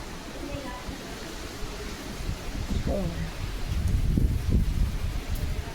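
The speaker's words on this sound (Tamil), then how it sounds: "செம்ம காற்று." Strong wind blowing across an open hilltop, a steady broadband roar with gusts that swell louder toward the end, buffeting the microphone with low rumbles and faint rustling.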